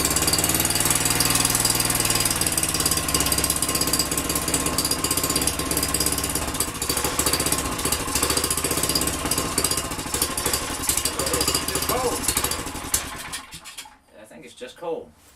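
Small engine of a Manco Dingo mini loader, cold after revival, chugging loudly and steadily up close with a rough knocking rhythm, then abruptly cutting off near the end; voices talk over it.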